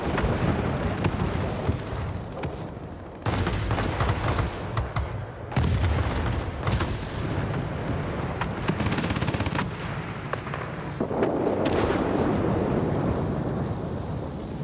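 Aircraft gunfire in World of Warplanes, long rattling bursts of machine-gun fire mixed with engine roar, loud and continuous with brief pauses between volleys.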